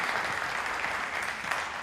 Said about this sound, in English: we could applaud them really quick for this tonight